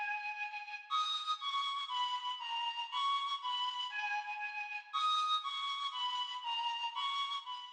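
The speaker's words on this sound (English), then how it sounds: "Now layered on top of this is a mellow, kind of scary flute that plays this pattern." A mellow, eerie flute line for a trap beat plays a steady repeating pattern of sustained tones, clean and upfront with no drums or voices.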